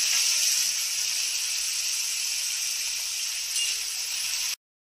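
Finely chopped onion sizzles steadily in hot oil for an egg masala, a loud, continuous bright hiss close by that holds evenly and then cuts off abruptly near the end.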